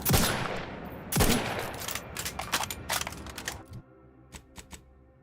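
Marksman rifle resembling an M14 fired in Outer Worlds 2, a burst of sharp, loud cracks at the start, a second volley, then scattered shots and mechanical clicks fading toward the end, with no talk.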